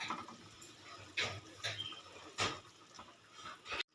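Mustard-based rui fish curry boiling in a pot gives off a soft, steady bubbling with a few brief louder splashy bursts, close and quiet, with no talk.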